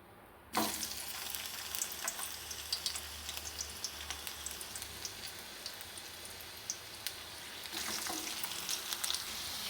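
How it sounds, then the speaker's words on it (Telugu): Bitter gourd pieces frying in hot oil, starting with a sudden loud sizzle as they drop in, then a steady, close crackling hiss with scattered pops that swells again near the end. "కొంచెం వేడవగానే మనం కాకరకాయ అనేది వేసేద్దామండి."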